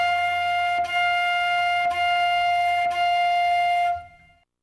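A flute plays four short notes on F, evenly spaced about a second apart, each with a soft breathy attack, clear and close, ending in silence.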